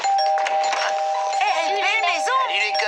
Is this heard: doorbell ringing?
yes